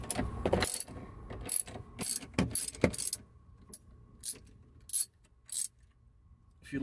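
A ratchet works a battery terminal on a Dodge Charger, giving quick close clicking and ratcheting bursts with metallic clinks and pauses between them.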